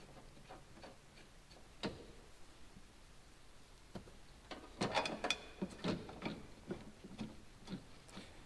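A ratchet snugs down 13 mm bolts during a Sierra 4.3 to 5.3 engine swap, with faint scattered ticks followed by a brief cluster of quick ratcheting clicks, quiet and close, with no speech.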